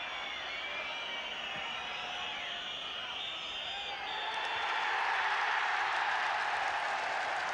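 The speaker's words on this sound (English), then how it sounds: "a great deal of applause greets a Welsh victory" Stadium crowd noise at a 1984 Wales versus England international football match, a broad distant roar of applause from the terraces that swells louder midway and holds, with no speech over it.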